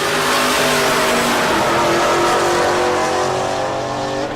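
Drag racing cars roar at Tulsa Raceway Park, one near and loud, engine pitch climbing steadily as it accelerates over the whole stretch.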